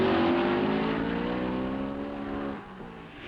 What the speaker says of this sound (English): Into the south turn, the Ferraris of Hawthorne and Collins lead Fangio's Maserati.